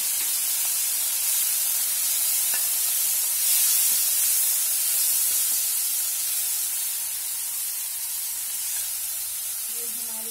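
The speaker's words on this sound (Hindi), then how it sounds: "अब हम इसमें कटा हुआ टमाटर डालेंगे, जो मैंने छोटे छोटे टुकड़ों में डाला हुआ है।" Chopped tomatoes hitting a hot pan with bottle gourd and chana dal give off a steady, bright sizzling hiss that swells slightly and then settles, close and even, with no talking.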